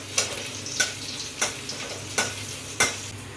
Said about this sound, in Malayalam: ഇത് ആ ചട്ടിയിൽ തന്നെ നമ്മൾ കുറച്ചും കൂടി സൺഫ്ലവർ ഓയിൽ ഒഴിച്ചിട്ട് വെളുത്തുള്ളി ചെറുതായി പൊടിയായിട്ട് അരിഞ്ഞത് ഇതാക്കാൻ